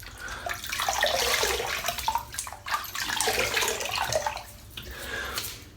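Tap water runs into a sink while a man wets his face before shaving, a steady rushing splash with hand-scooping surges and small drips, close and continuous.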